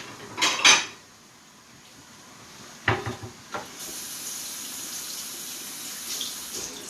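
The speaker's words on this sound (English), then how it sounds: "If you hear water in the background, I'm rinsing off a plate" Water from a kitchen tap runs in short bursts while a plate and spoons are rinsed, with two splashy spurts separated by a quiet gap and faint clinks, then a low steady trickle.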